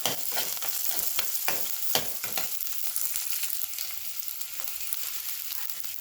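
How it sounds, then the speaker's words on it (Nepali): Onions frying in a pan for a matar paneer dish, a steady close sizzle with sharp crackles and pops in the first two seconds that settle into a continuous hiss, with no talk. "प्याज पनि हाल्ने, मजाले फ्राई हुन दिने"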